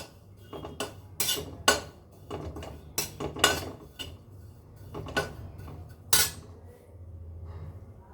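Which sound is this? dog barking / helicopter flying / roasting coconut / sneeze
roasting coconut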